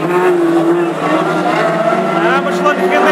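Classic hot rod race cars, a Mark II, an Anglia and a Mark I Escort, roar together around an oval track at Aldershot, their engines whining with rising and falling pitch under a commentator's continuous talk.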